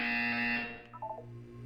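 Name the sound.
buzzer in the video game Portal 2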